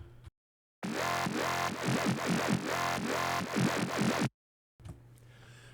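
A buzzy synth bass through a band reject filter plays a rhythmic pulsing pattern with a notched tone, starting and stopping abruptly between short gaps.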